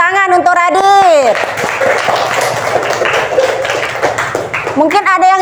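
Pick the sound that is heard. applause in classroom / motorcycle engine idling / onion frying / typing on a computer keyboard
applause in classroom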